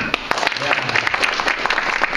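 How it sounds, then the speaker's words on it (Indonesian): Clapping from a seminar audience at a service-excellence talk, dense and continuous across the moment, fairly loud, with some speech faintly mixed in. "Tepuk tangan."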